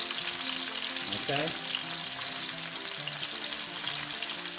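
Shallot and onion frying in a pan for a ham spaghetti sauce, a continuous close sizzle with a brief stir and a short spoken word near the start.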